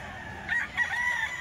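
A rooster crows once, a short, strained call that is fairly close and clear over a low background hum.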